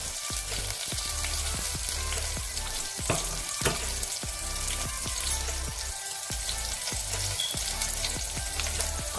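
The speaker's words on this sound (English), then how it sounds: "I'm just gonna go in with the onions, the coriander, really hot" Onions and coriander frying hard in a very hot pan, a dense steady sizzle with scattered crackles and pops running throughout, close and loud with no talk.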